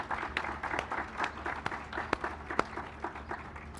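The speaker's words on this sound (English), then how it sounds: "Can we give them a round of applause," Applause at a ribbon cutting ceremony for a center for military-connected students: fairly faint, scattered claps with a few sharper individual hand claps standing out, heard at a distance in a quiet room.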